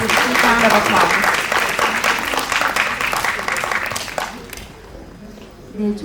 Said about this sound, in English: Let us stand up with a big round of applause.